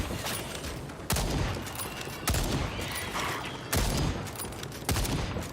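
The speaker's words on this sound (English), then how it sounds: "When I'm shooting this, it feels like a pea shooter. It doesn't feel like an assault rifle." Assault rifle fire in the online shooter Second Extinction, heard as four sharp, loud reports spaced roughly a second apart over a continuous busy background of game noise.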